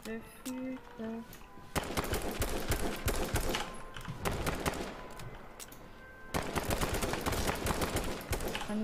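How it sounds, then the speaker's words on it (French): Rapid gunfire in a video game, shots pumped into a tree, arriving as two long, loud, dense bursts after a short quiet stretch with brief tonal game sounds. "Je tire dans l'arbre."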